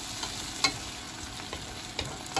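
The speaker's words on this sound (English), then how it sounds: "So, I'm just trying to saute this a little bit" Dumpling filling made with red herring sautéed in a pan, giving a steady close sizzle with a few sharp stirring scrapes scattered through it. No voices are heard.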